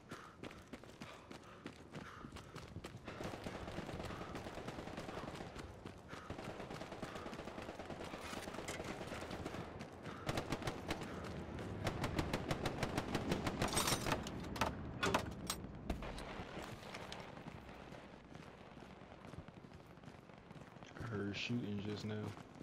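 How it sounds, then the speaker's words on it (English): Gunfire echoes across a battlefield in the World War II shooter Hell Let Loose, dense bursts and single shots under a steady din, louder and sharper near the middle and fading toward a few last cracks. "Shooting just now."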